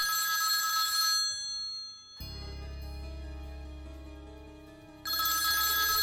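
A telephone rings in bright repeated bursts at the start and again at the end, with a low sustained musical drone filling the gap between the rings.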